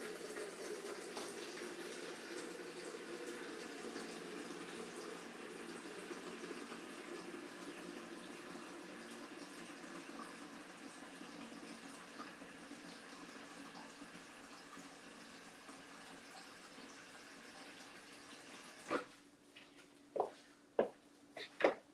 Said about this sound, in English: Filling up my container with filtered water.